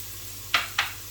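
Mushrooms frying in a pan with salt while being stirred, two short bursts of sizzling scrape over a low steady background, close and clear with no talking.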